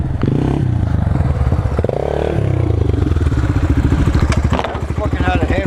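Motorcycle engine revved hard with the throttle held open and the clutch dumped, a loud rough roar with rising and falling pitch close to the microphone, while people talk over it.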